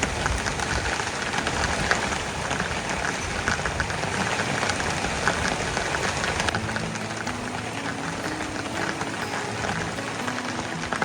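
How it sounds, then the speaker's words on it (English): Steady rain falls and patters on surfaces, a constant hiss with a low engine-like hum joining partway through. "So let the rain fall down."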